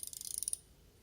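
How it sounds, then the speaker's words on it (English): A ratchet loosening 8 mm brake caliper bolts during a brake rotor and pad replacement gives a quick run of about a dozen close, crisp clicks that stop partway through, leaving quiet. "now we're going to loosen these bolts. They're 8 millimeters."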